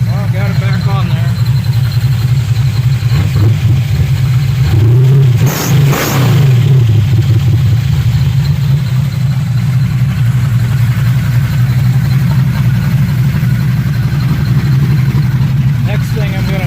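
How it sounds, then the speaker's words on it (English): A car engine runs steadily after a carburetor rebuild, a low continuous drone with a brief rev swell near the middle, while someone talks over it throughout. "put it back on the car and get it running"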